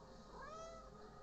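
A pet cat meows once, a drawn-out rising and falling cry, close and fairly loud over a steady background hum.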